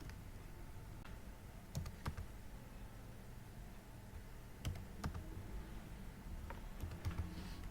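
Someone types a verification code on a computer keyboard, soft scattered key clicks arriving in small clusters with pauses between, quiet and close over faint room hum.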